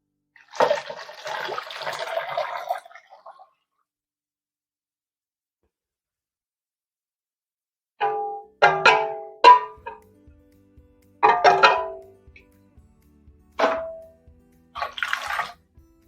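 Eight cups of hot water poured into a pressure canner make a steady, splashing pour for about three seconds. A long silence follows, then several close metallic clanks and knocks from handling the canner.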